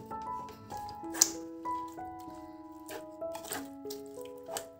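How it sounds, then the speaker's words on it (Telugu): Boiled rice water poured into chicken biryani masala, with soft splashing, dripping and squishing as the liquid hits and mixes with the spices, fairly close and quiet, with a brief sharper splash partway through. "బాయిల్ చేసిన ఈ వాటరే మనం పోసుకొని"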